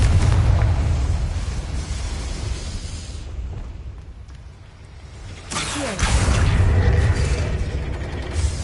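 Confringo fire spell exploding in Hogwarts Legacy: two loud, deep booms, the first rolling away into a quieter rumble, the second bursting hard near the end and carrying on without any voices.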